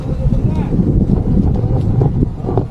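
Strong wind buffets the microphone with a constant low roar during a downhill ride, steady and loud throughout, with faint sounds of the moving ride underneath.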